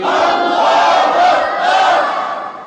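A large crowd at a religious gathering roars back in unison to a Nara-e-Takbir call, a loud, sustained mass shout that swells twice.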